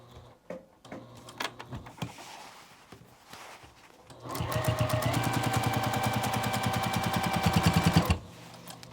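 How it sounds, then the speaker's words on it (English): Sewing machine back stitching over a seam on a beginner quilted pillow: a few short stitch bursts, then about four seconds of loud, steady rapid stitching before it stops. "I usually go over my stitches just a little bit, back stitch a couple times"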